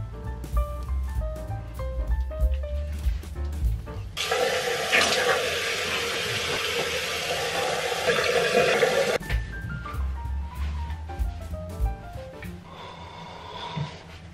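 Water runs from a bathroom tap while someone shaves and washes their face. A loud, steady gush lasts about five seconds mid-clip, with quieter splashing and dripping before and after, and background music throughout.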